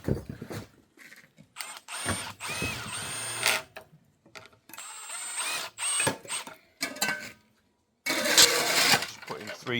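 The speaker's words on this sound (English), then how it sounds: "Putting 3 2-inch screws into the windowsill now." A power drill drives three 2-inch screws into a uPVC windowsill during a window fitting in a renovation, heard as close, loud, intermittent whirring bursts separated by short pauses and handling clatter.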